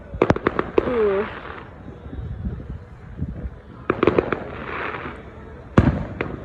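Neighborhood floor fireworks going off nearby, sharp bangs and crackling bursts with a whistling fizz, clustered in quick volleys between pauses, with people talking in the background.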